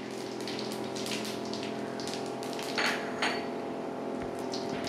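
Whole cumin seeds and bay leaf tempering in hot mustard oil for chana masala, giving a steady crackling sizzle with brief popping bursts, close and alone.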